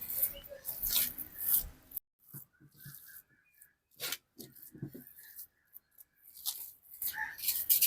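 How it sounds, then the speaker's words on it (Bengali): Mashed mankochu (giant taro) paste mixed by hand: soft, intermittent squelching and rubbing bursts with brief silences between them, close to the microphone, and a voice speaking at times. "ভালো করে মাখিয়ে নিয়েছি"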